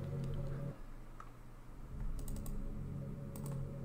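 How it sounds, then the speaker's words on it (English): Soft, scattered keystrokes tap on a computer keyboard as someone types into a chat, faint and clicky against a steady hum of background music. "typing in my Twitch chat"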